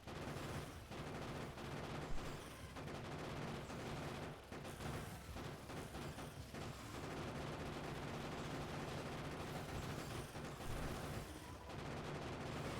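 Continuous rattling gunfire from turrets and vehicle weapons in the factory-building game Factorio, a dense steady barrage of shots running the whole time, fairly faint and without talk.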